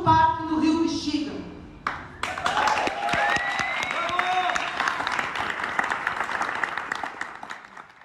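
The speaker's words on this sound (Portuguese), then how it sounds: "Com as palmas e comoção do público" Theatre audience applauding, dense sustained clapping that starts after a voice and continues loudly to the end, with crowd voices mixed in.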